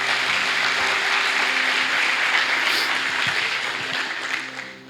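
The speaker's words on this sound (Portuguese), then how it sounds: "Aplauda o Senhor" Congregation applauding during a church service, a steady wash of many hands clapping at moderate distance that holds evenly and tapers slightly toward the end, with faint tonal hum beneath.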